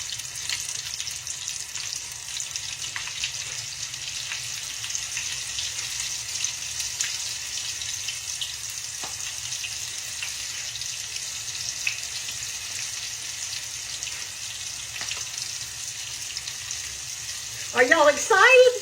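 Battered catfish fries gently in hot oil with a steady, soft sizzle throughout, a few sharper crackles and pops near the end as another piece goes into the pan.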